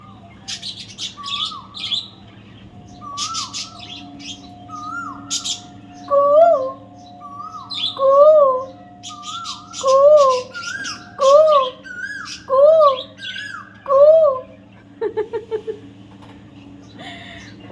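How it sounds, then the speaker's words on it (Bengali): An Asian koel calls repeatedly, clear rising whistled notes in a steady series that grow more insistent, with other small birds chirping faintly in the background. "ততক্ষণ তোমরা কোকিলের ডাকটাও শোনো"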